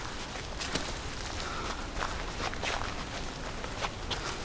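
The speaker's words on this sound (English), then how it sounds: "Sound of my feet walking on the trail." Footsteps crunch along a woodland stretch of the Appalachian Trail near Trents Hill, Pennsylvania, a steady walking rhythm of soft scuffs heard up close over a quiet outdoor background.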